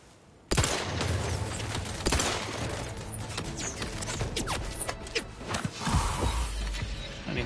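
Gunfire in Outer Worlds 2 from a shotgun and a rattler fired at robots. Dense, continuous volleys of shots and mechanical clatter carry through the whole clip, with a few heavier booming hits standing out.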